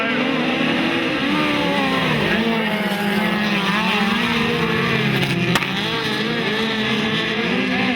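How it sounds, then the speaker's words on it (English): Speedcars racing at Maryborough Speedway during a Queensland Speedcar Title night, with four cars roaring in a continuous, loud engine drone that rises and falls as they circle. A commentator's voice may run faintly beneath. "Racing and away they go."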